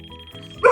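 A steady electronic doorbell tone hums before a sudden loud dog bark bursts in near the end, close and sharp.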